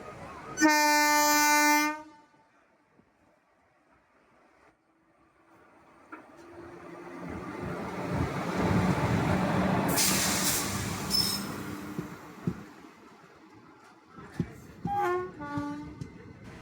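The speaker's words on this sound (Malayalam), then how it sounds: "മധുര ഗുരുവായൂർ ട്രെയിനാണ് നമ്മുടെ മുന്നിലൂടെ കടന്നു പോകുന്നത്" The Madurai–Guruvayur passenger train sounds a loud horn blast, then rumbles past Bhagavathipuram station on the Kollam–Chenkotta line, the clatter swelling to a peak and fading before a second shorter horn near the end.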